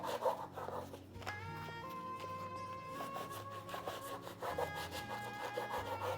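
A knife saws through four loaves of pita bread, cutting them into squares with steady, continuous rasping strokes, close and moderately quiet, over a sustained tonal hum.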